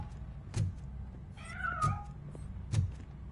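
A cat meows in the RoboCop: Rogue City video game, one clear mid-length meow standing out between soft thumps and low background hum, fairly close.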